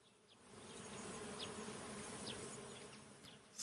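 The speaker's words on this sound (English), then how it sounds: "The bees were still buzzing as suspiciously as ever." Bees buzz in a steady, faint drone around a cloud in a Winnie the Pooh scene, with a few brief higher insect passes flitting close by and no voices.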